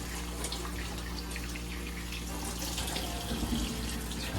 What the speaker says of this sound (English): Just gonna wash our hands.